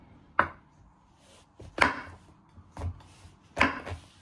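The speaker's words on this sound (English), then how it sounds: "You're going to prep your mushrooms and you want to cut it into 3" Knife chopping mushrooms into chunky pieces on a board: four sharp, separate chops spaced roughly a second apart, close and fairly loud, with quiet handling between strikes.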